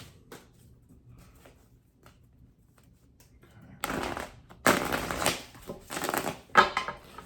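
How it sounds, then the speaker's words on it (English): Tarot cards are shuffled after a quiet stretch, a few quick bursts of riffling and flapping paper, close and crisp. "I'm going to give them one more quick shuffle."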